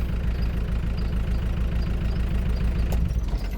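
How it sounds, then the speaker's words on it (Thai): A 1992 Mitsubishi L200 Cyclone pickup truck engine runs steadily at idle nearby, a continuous low rumbling drone with no talk over it. "ดับเครื่องก่อนนี่ครับนี่สตาร์ทบึมๆเลย"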